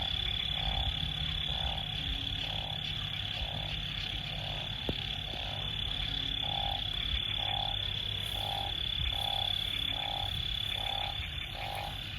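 Frogs croak after the first rain of the year in rural northeastern Thailand, a steady chorus of evenly spaced calls repeating about once a second, with insects buzzing continuously in the background and no talk.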